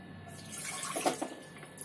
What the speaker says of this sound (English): We can also put a little bit of water into the cooker and use it.